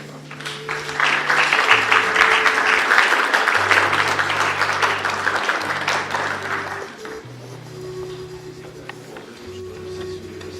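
An audience at a philosophy lecture applauds to welcome a speaker, the clapping loud and steady for about seven seconds before thinning out under a low background hum.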